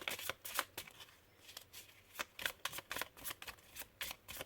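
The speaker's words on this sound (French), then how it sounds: "c'est pas étonnant que je doive le mélanger longtemps" A deck of tarot cards is shuffled close up: quick, repeated riffling and sliding bursts in an uneven rhythm, fairly soft and alone, with no voices.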